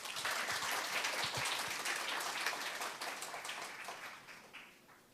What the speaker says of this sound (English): let us please welcome His Excellency with a big round of applause